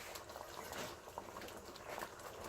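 A small splash of drinking water poured into a nearly empty can of coconut cream while making Thai yellow chicken curry, a soft, faint liquid trickle and slosh that runs briefly and quietly.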